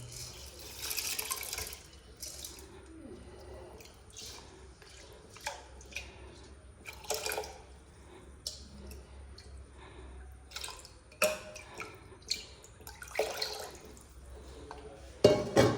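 Water is poured into a pot of rice in a home kitchen, giving intermittent splashes and drips in short bursts, with a louder pour near the end. The sound stays fairly quiet and close, and no voices are heard.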